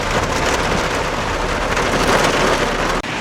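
Heavy downpour pounding on a car being driven with the wipers off and a freshly coated windshield, a dense, steady roar of rain on the glass and body, loud and continuous throughout.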